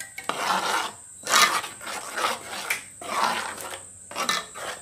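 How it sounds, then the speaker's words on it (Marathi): A spoon stirs prawn curry with Malvani masala in a pot over a wood fire, rhythmic scraping strokes repeating about every second, close and fairly loud. "चांगलं ढवळून घ्यायचं आहे"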